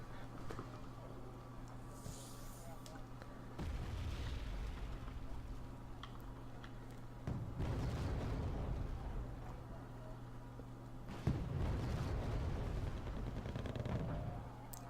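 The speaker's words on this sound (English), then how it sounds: "artillery coming down in the forest there" Artillery shells come down in a forest during a war strategy game, heavy low booms and rumbling bursts rising at intervals over a steady ambient drone, several impacts layered close together.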